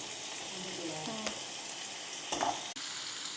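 Onions, chilli, ginger garlic paste and turmeric sauté in a hot pan for a curry, a steady close sizzle with occasional scraping stirs and a brief clatter of the spoon.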